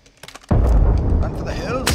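A PKM machine gun in the game Badlanders opens fire after a brief quiet moment, a loud, dense burst of booming shots that continues to the end, with a voice briefly heard before the gunfire.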